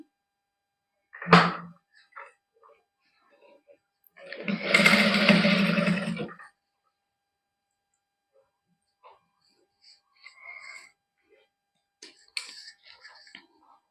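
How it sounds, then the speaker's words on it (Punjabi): Sewing machine stitching along the edge of a lace neckline: one burst of motor whir lasting about two seconds, with a few light clicks and fabric-handling taps before and after. "ਹੁਣ ਇਹਦੇ ਕੰਨੀ ਤੇ ਸਲਾਈ ਲਾ ਦਾਂਗੇ"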